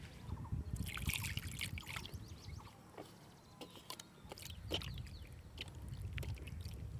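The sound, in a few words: water trickling while washing a fish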